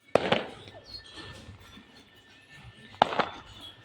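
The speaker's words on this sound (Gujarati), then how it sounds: "હા એલા ફટાકડા ફૂટે છે" Two sharp distant bangs of firecrackers go off about three seconds apart, each followed by brief crackling, with faint background ambience in between.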